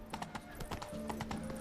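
In The Witcher 3, the horse Roach clumps up a flight of stairs, a rapid, stumbling series of close hoof clops over a low steady game drone.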